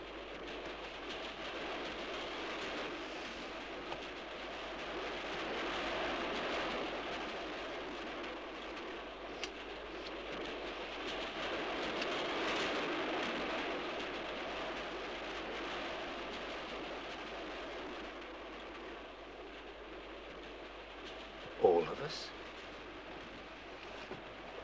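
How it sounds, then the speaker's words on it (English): A moving train rumbles along its rails in a steady, moderately quiet wash of rolling noise that swells and fades slightly, with a short sharp sound near the end. "It's this train. It's gonna crash."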